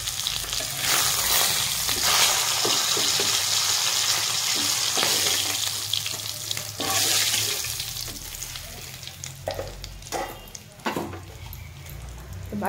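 Pieces of rui fish fry in hot oil with a loud continuous sizzle and crackle close up, broken by utensil clinks and scraping, and the sizzle eases slightly toward the end.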